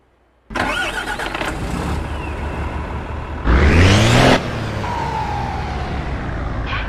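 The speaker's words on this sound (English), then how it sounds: "Do you recognize this turbo sound?" In Euro Truck Simulator 2, a Volkswagen Constellation truck's engine cranks and catches, then settles into a steady idle, briefly rising into a louder rev with a turbo whine before dropping back to idle.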